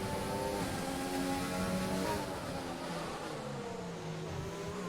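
Several race cars roar around a racing circuit during a club race, engines droning loudly and steadily throughout with a slight surge partway through.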